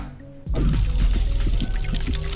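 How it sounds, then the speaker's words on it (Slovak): Case-opening sound effect on the WildCase website: a sudden loud burst after a short quiet lead-in, then a sustained rushing, pouring-like wash with rapid rattling ticks, alone with no talk. "Je tu zaujímavý zvuk, zaujímavý zvuk na otváranie kejsok"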